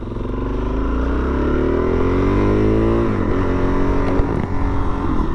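A 2022 Suzuki DR-Z400S single-cylinder dual-sport pulling away in its tall first gear, engine loud and close, pitch climbing steadily as it accelerates, then dropping as revs ease off.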